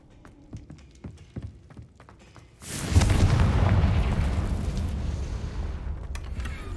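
A Confringo blasting spell in Hogwarts Legacy, a sudden loud boom after a few sharp clicks, followed by a long rumbling roar that slowly fades over several seconds.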